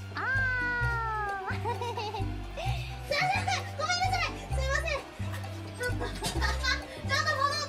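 A cat lets out a drawn-out meow at the start, then high, childlike voices chatter over continuous background music.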